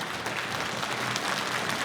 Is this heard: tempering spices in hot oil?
no